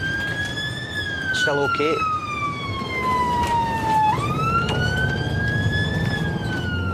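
A Glasgow ambulance siren wails loudly and close by, its pitch sweeping slowly up and down in a continuous two-tone cycle over street noise, while a person briefly speaks.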